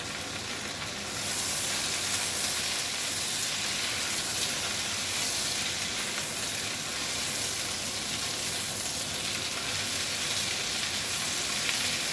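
Garlic frying in a hot pan while being stirred gives a loud, dense, continuous sizzle and hiss that holds steady from start to finish, with no talking.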